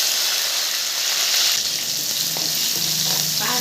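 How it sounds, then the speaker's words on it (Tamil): Peeled garlic and small shallots hit hot oil with fenugreek in a pan for fish curry, a loud, continuous sizzle and frying hiss that stays close and steady, with faint stirring clinks. "பாருங்கள், நல்லா வதங்கட்டும்."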